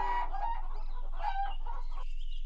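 Cartoon chickens in a children's animation clucking and squawking in quick overlapping bursts, close and clear, with a brief crowing-like call near the end.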